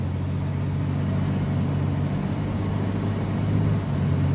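Car engine with a 4L60E automatic transmission accelerating, a loud, steady close drone with a shift in tone around the middle, heard alone.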